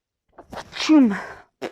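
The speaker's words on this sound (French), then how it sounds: "Le fait que j'éternue comme ça" A single close, loud sneeze, with a quick breath drawn in just before the burst and a short voiced sound after it, in a quiet indoor room.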